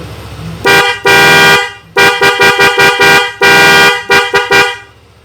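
A Denso waterproof horn fitted to a Yamaha NMAX scooter blares loudly and close by, first in long blasts, then in a run of short rapid toots, and ends with more sustained honks.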